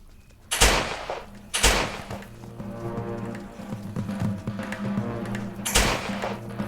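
Three loud, sharp video game gunshots ring out at irregular intervals over a low, droning background of rumbling game sounds.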